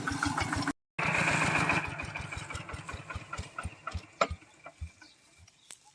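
An old walk-behind farm tractor running with its engine chugging in a steady rapid pulse, loud at first, then tapering off into quieter irregular knocks and clatter.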